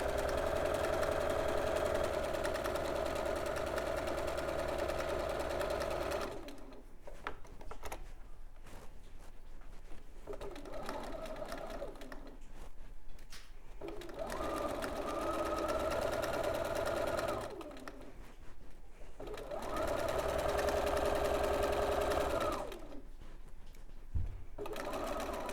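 Sewing machine stitching a rabbit toy, running in long steady bursts with brief pauses between runs, fairly close and even in loudness.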